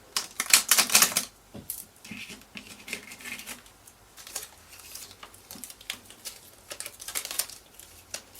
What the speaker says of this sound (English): We'll do a little shuffle, see if that brings something out.